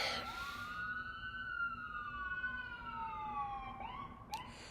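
A police siren wails in a long, sweeping tone that rises and slowly falls, clear and somewhat distant, ending with a brief sharp yelp.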